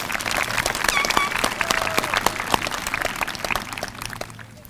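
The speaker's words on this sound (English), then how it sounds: "Let's give him a round of applause." Audience applause at a 2015 high school graduation ceremony: a steady, dense wash of many hands clapping, with a few whistles, filling the hall throughout and tapering slightly at the end.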